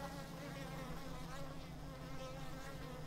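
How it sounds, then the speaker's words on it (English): Two bee colonies living in the walls of an off-grid homestead house in Thailand give off a steady, dense buzz that fills the air, loud and constant throughout with no pauses or voices. "you hear a buzz on one side of you and a buzz on the other side of you"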